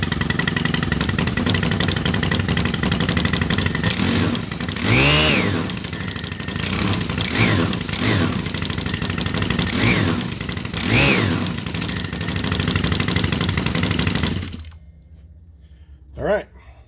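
Stihl string trimmer with a newly installed Twist-A-Throttle system, its small two-stroke engine running loudly and steadily with several revving surges, then cutting off near the end, followed by a single short burst.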